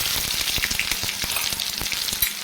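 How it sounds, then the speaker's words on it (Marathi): Ginger-garlic paste hits hot oil for a besan pitla tempering, a close, dense crackling sizzle with rapid popping spatters throughout, no voices. "तर आजच्या रेसिपीमध्ये हे नवीन मी ॲड केलेलं आहे ही आले लसणाची पेस्ट"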